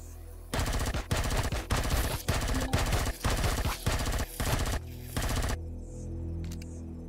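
A gun fires in the space-survival video game Empyrion Galactic Survival, loud rapid bursts of automatic fire in about nine evenly spaced volleys, then it stops and a quieter mechanical hum and clicks follow.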